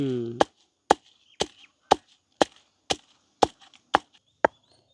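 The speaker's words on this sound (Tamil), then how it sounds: "செத்தல் மிளகாயை நாங்கள் நல்ல வடிவாக இடிக்க வேணும் இது இடிபடும் இந்த உரல் கல்லூரால் தான்" Sharp, evenly spaced pounding strikes, about nine in a row, land with a hard, woody thud as dried chillies are crushed in a stone mortar.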